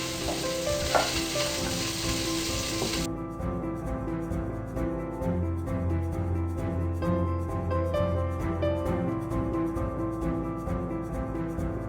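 Bacon frying and crisping in a pan, a loud, continuous close sizzle and crackle with steady spitting fat that persists throughout.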